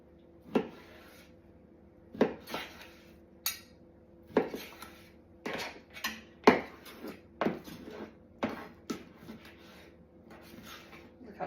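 A kitchen knife slicing through food on a board, with repeated short crisp strokes about a second apart, close and moderately loud, with faint clinking and no speech.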